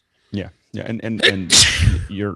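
A single sudden sneeze bursts out in the middle of conversation, with people talking just before and after it.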